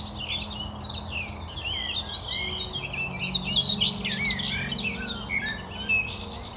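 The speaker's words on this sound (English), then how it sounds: "The Dawn Chorus here at the Knepp Rewilding Project is something rather remarkable" A dense spring dawn chorus at the Knepp rewilding estate in Sussex, captured through a parabolic microphone: many birds chirp, trill and warble in overlapping bright phrases, with a quiet low hum underneath.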